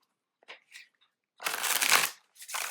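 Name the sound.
shuffling tarot cards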